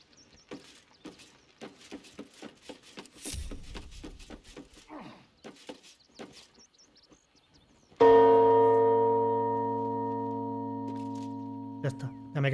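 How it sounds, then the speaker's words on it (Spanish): A bell rung in the video game Baldur's Gate III strikes once loudly and rings out with a long sustained decay, with a second faint strike near the end, after a stretch of Spanish speech. "Quiero probar a tocar la campana."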